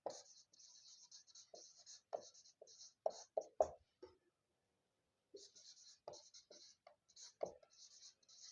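A pen writes on paper during a Class 10 English lesson. It makes soft, intermittent scratchy strokes close to the mic. A teacher talks quietly between and over the strokes, with one brief pause near the middle.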